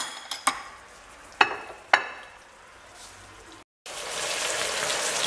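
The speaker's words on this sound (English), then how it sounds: "This is about 10 minutes of frying on low flame on olive oil." Steady sizzling of burger meat frying in olive oil on a low flame, with a few sharp clicks and taps of utensils near the start, then a brief gap before the hiss resumes louder.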